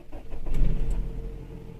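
A 2500cc Nissan X-Trail pulls away with a low engine rumble that swells briefly and then settles as the car moves off, heard up close with no talking.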